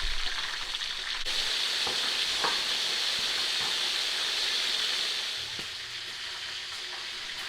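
Chicken wings fry in a pan with a loud, steady sizzle and hiss that holds nearly unbroken throughout, with a few faint clinks and stirring scrapes underneath.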